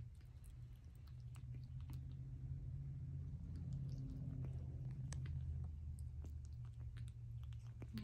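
A pet monkey chews food held in its wet hands, a soft close-up mastication with faint crunches and wet bites repeating over a low steady rumble.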